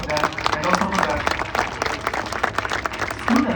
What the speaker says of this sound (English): So give them a big round of applause for them.